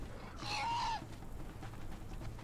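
A burst of bird calls from fowl-like creatures in the survival game Conan Exiles, a short squawking, clucking cry lasting about half a second before it gives way to quieter ambient game sound.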